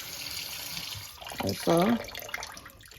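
Water splashing in a sink or basin as fish are washed with salt and lime, a steady wet running and sloshing bed with a brief voice partway through.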